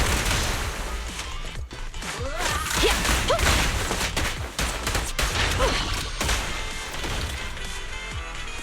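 Dense video-game gunfire in Zenless Zone Zero, rapid shots and crashing impacts packed together with whooshes and thuds in a loud, chaotic battle mix.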